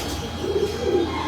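Champion breeder pigeons coo softly in a low, rolling murmur, close by and steady over a faint background hum.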